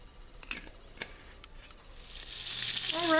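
Filet mignon searing in olive oil in a hot pan, a soft sizzle with a few faint clicks early on, building into louder, steady frying hiss near the end.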